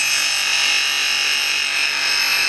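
A woodturning scraper honed by hand on a sharpening stone, giving a continuous loud, close, hissing rub with no breaks or pauses.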